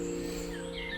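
Faint birdsong chirps high above a steady low hum, a few short calls drifting in the background.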